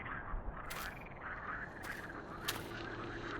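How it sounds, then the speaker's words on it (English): A frog croaks faintly in a dark cursed forest within a video game, a few soft calls rising over a dense, steady bed of ambient noise and hiss. "Oh, there's a frog!"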